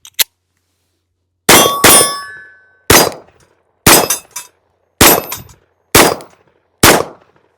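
A PSA Dagger Micro C1 pistol fires with a new magazine: about eight sharp, loud, close shots at a steady, unhurried pace, each with a short ringing tail, and one faint click just before the first shot.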